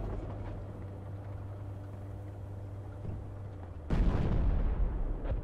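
A tank shell strikes in the Project Reality military game, a sudden loud boom that breaks through a steady low engine rumble and leaves a heavy roaring wash, with a fainter blast trailing near the end.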